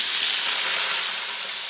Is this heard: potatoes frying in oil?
yes